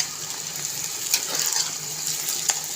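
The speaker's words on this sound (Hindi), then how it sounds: "अब साथ में लहसुन को भी फ्राई कर लेते हैं।" Garlic cloves fry in hot ghee with onions, giving a soft continuous sizzle with a few brief clinks of stirring, close and moderately loud.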